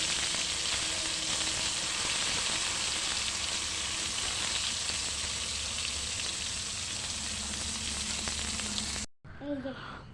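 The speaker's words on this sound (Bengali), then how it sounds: "আর বেগুন ভাজা করে নিই" Eggplant slices fry in a hot pan with a steady, loud, continuous sizzle that fills the scene, cutting off abruptly near the end before a brief faint clatter.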